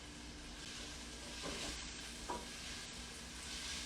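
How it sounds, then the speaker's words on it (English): Onions and peppers sautéing in a pan, a soft steady sizzle and hiss with a couple of brief stirring scrapes, close and continuous with no talk. "So with the same pan, we are sauteing our onions and our peppers."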